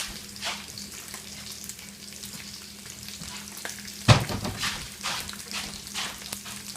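Bacon strips frying in a pan of rendered fat, a soft steady sizzle with a sharper clatter midway, close by and without talk.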